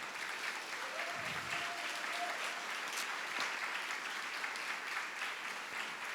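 A church congregation claps hard and steadily in sustained, dense applause at a worship service, filling the room evenly with no clear pauses.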